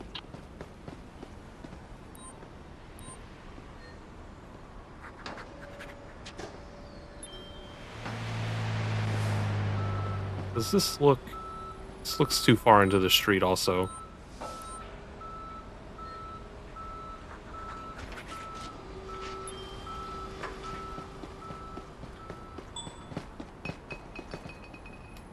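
Tow truck's reversing beeps in the Police Simulator: Patrol Officers game, a steady repeating beep pattern heard among engine rumble, clattering and footsteps, with someone talking briefly.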